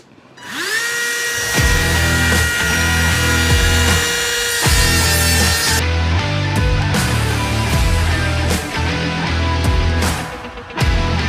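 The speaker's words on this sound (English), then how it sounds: "let's give this sanding disc a whirl." A high-pitched power tool whines up to speed and runs continuously, its pitch dipping in repeated bursts as a spinning sanding disc grinds the metal port of a Honda Odyssey FL250 two-stroke engine.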